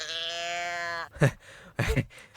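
A goat in a hunting video game gives one long, wavering bleat, then two short bursts follow close by.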